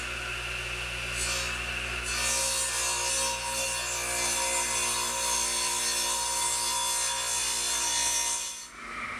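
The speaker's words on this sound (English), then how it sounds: "Lock it in, and we're ready to make a cut." Power saw blade cutting through wood for a pencil-post bed, a loud steady motor whine with a rising, rasping bite into the board that holds for several seconds before dropping away at the end.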